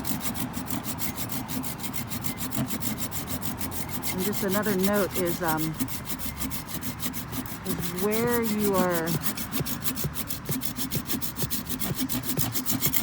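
A hand saw rasps rhythmically through a branch at a knot in quick back-and-forth strokes, with brief talking over the sawing.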